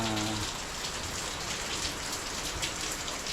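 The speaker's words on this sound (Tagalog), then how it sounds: "Ulan po dito sa ano, sa Pilipinas." Heavy rain pours in the Philippines beside a small creek beginning to flood, a dense, even hiss of drops striking surfaces that stays steady throughout, with a brief tonal sound at the very start.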